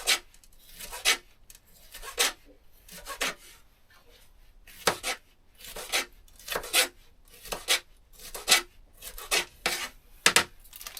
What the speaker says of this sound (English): Let's cut up little chunks